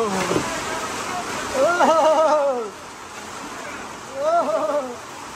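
Heavy rain pours down in New Zealand, a steady loud broadband wash of falling water that runs through the whole stretch while voices talk over it.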